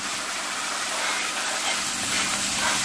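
Steady, dense sizzling hiss of food frying in a pan, continuous and fairly close with no talking.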